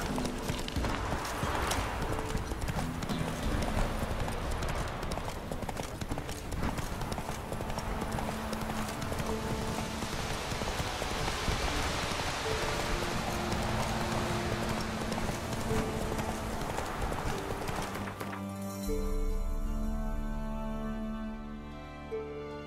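In a video game, a horse's hooves clip-clop steadily through continuous rain, the hoofbeats and downpour close and fairly loud throughout, ending in a brief different ambience near the end.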